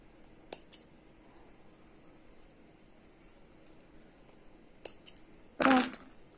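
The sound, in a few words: scissors cutting crochet yarn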